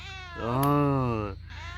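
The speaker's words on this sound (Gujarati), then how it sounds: "અમારી આ પારવેલી બિલાડી દૂધ પીવા તો બહુ પાડે છે" A pet cat on a farm gives one long, loud, drawn-out meow close by while asking for milk, followed by a short quieter sound.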